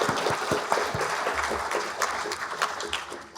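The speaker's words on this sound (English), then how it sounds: "Yes, that's an applause-worthy thing." Audience applause at a documentary screening of a Juneteenth song documentary, a short burst of clapping and cheering from a room full of people, fairly loud and sustained.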